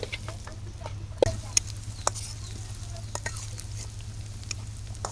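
Eggplant frying with chilies in a pan gives a close, continuous sizzle with scattered spatters and a few clinks of a stirring spoon. A low steady hum sits underneath, and no one speaks.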